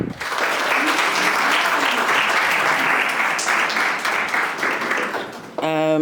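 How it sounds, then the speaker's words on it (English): A crowd at a milestone celebration event gives a warm round of applause that holds steady for several seconds and then fades. A voice can be heard briefly near the end. "Can we please give a round of applause for Mbali?"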